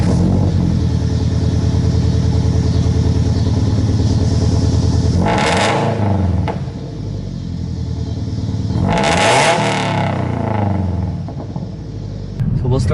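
A Subaru BRZ with an aftermarket exhaust idles with a steady loud rumble and is blipped twice into sharp revs that quickly fall back, recorded close up with some speech around it.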